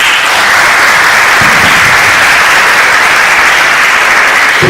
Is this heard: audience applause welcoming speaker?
yes